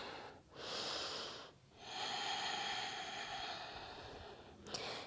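Slow, deep breaths during a power yoga flow, two long airy exhales close to the mic separated by a brief pause, with a soft click near the end and no talking.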